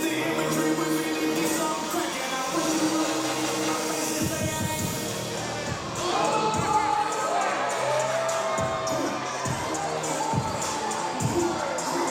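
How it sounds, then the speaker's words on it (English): Wrestling event crowd in Jefferson, Georgia, cheering, shouting and whooping in a busy hall, with scattered thumps and announcer talk running over the top. "What a great crowd we have on hand here in Jefferson, Georgia."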